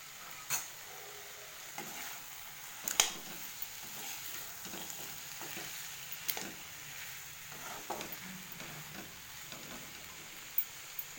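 Capsicum and soaked, boiled green peas sauté quietly in a pan for peas pulao, a soft low sizzle with scattered scraping taps of a spoon stirring at irregular intervals.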